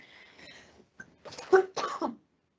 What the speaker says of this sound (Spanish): estoy un poco afónica y estoy con mucha tos